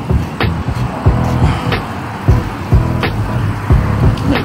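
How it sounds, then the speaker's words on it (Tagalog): Rush-hour road traffic on a weekend streams past, a steady rumble of cars with repeated individual vehicles whooshing by up close, each pass swelling and fading over the constant engine drone. "Medyo traffic."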